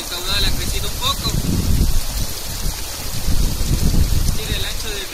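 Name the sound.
Pantaví river flowing in the rainy season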